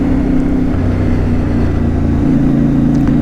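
A CFMoto 450MT motorcycle engine cruising steadily at 100 km/h, a loud, continuous low drone with wind rush and a slight shift in pitch partway through.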